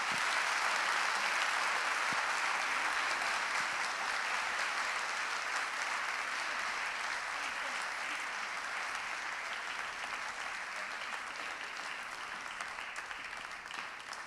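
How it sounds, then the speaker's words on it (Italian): Audience applause welcomes a guest speaker at a talk, a steady, even wash of clapping from a sizable crowd that holds for the whole stretch and thins only slightly toward the end. "Li accogliamo con un applauso."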